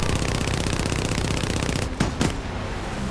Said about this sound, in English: Let's see if we can get that with a front gun.